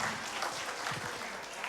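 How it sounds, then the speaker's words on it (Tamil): An audience at a children's Vacation Bible School program claps briefly, a soft diffuse patter of applause at moderate distance mixed with faint background voices. "ஒரு பலத்த கைத்தட்டல் கொடுத்துடலாமா?"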